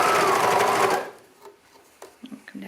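A serger stitches knit fabric at a fast, even whir for about a second, then stops, leaving quiet handling noises and small clicks of the machine and fabric.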